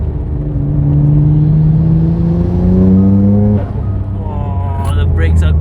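A Nissan Skyline GT-R R34 engine spooling up while driving, a loud rising in-cabin drone that climbs through the revs, dips at a gear change and builds again, with a voice talking over it.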